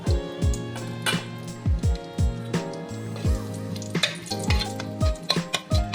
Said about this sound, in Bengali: এবার আমি ওই তেলের ভেতরেই শুকনো লঙ্কা ফোড়ন দেব।